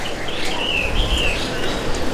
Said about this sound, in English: Look at all the parrots in there.